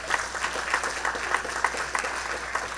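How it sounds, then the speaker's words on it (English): Audience applause at a film festival evening, brief moderate clapping from a seated crowd, fairly steady with slight pulses, heard alone without talk. "So let's give them a big round of applause."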